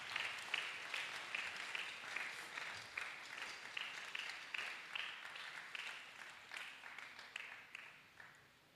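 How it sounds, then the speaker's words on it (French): A church congregation claps in steady rhythmic unison at an evangelism gathering. The claps repeat evenly and fairly quietly for several seconds, with a faint voice beneath them. "Let's clap."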